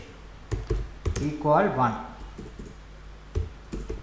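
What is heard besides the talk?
computer keyboard typing and copy-paste shortcuts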